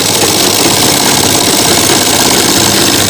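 A sewing machine stitching a second seam along a trouser waistband. The motor drones loud and continuously, with a dense, even buzz and no pauses.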